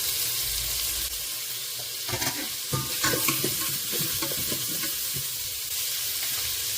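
Curry leaves fry with ginger in a pan and are stirred, a loud continuous sizzle broken by scraping, rattling stirring strokes close by.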